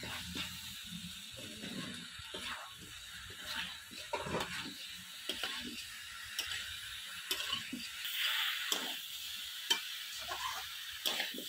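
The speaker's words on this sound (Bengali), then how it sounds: "দিয়ে ভালো করে মশলার সাথে কষিয়ে নেব। দিয়ে দেব বেগুন" Brinjal sautéed with spices alongside taro and potato in a pan, a steady low sizzle under repeated scraping stirs, fairly quiet and close, no talking.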